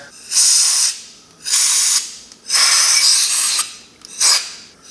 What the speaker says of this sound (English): Yep, blow that dirt away from there.